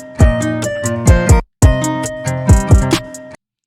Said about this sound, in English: And what that does is it creates a hi-hat roll